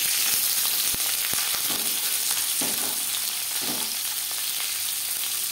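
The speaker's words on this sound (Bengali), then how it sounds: "3 চামচ সরষের তেল গরম করে নিয়েছি। এবার দিয়ে দেব পেঁয়াজ কুচি" Chopped onion hits hot mustard oil in a pan and crackles in a steady, loud sizzle with faint stirring scrapes, no voice over it.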